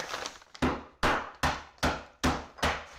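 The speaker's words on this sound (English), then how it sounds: "I'm breaking this with my hammer" Six sharp hammer blows crack pieces of clay, evenly spaced about half a second apart, each a loud close knock with a brief crumbling tail and no voices.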